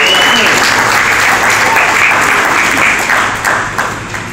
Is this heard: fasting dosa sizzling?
no